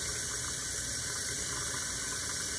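Cold water runs from a tap as a tie-dyed shirt is rinsed in a sink, a steady, close hiss of flowing water with no talk.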